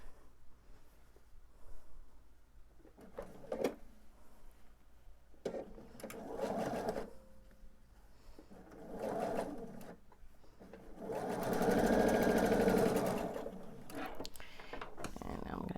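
A sewing machine stitches pieces of a pillowcase in short bursts, the longest and loudest run near the end, with a person talking quietly between runs.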